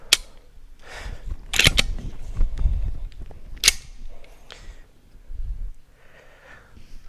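A gun fires once in a loud, sharp crack with a bright burst, followed by mechanical clicks and handling noise, close by and alone with no talk.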